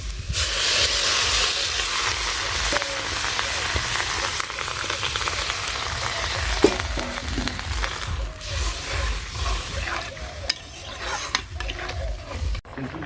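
Water poured onto sautéed turmeric and salt curry spices in a pan sets off a continuous bubbling sizzle with occasional clinks and scrapes, moderately loud throughout.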